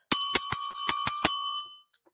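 A bright bell chime rings as a member joins a livestream, about seven quick metallic strikes in a steady run with a lingering ring that fades out, loud and clear with no talk over it.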